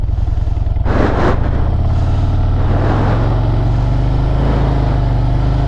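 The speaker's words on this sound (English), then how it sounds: "You hear that throttle? Throttle doesn't change." Motorcycle pulling away from a stop at steady throttle while the clutch takes up, a loud, close, continuous engine drone with a short rush of wind or exhaust noise near the start.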